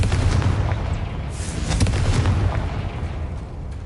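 The Confringo blasting curse goes off in the video game Hogwarts Legacy, sounding as a loud, close burst of booming explosions with crackling pops that rumble on and fade over several seconds.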